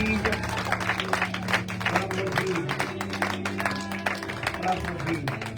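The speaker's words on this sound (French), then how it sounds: "Clap for Jesus." A church congregation claps along in steady rhythm, dense and sustained, with voices and crowd noise mixed in throughout.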